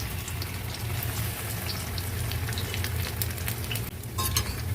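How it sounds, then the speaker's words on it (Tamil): Cauliflower pakoda frying in oil: a steady, close crackling sizzle throughout, with small clinks of a utensil stirring near the end. "இப்போ நல்லா ரோஸ்ட் ஆகுது பாருங்க."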